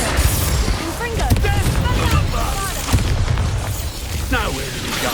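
Spell explosions in Hogwarts Legacy on PS5, an Expulso blast among booming bursts and pops in rapid succession, heavy low rumbles layered with magical effect tones and scattered impacts throughout a chaotic fight.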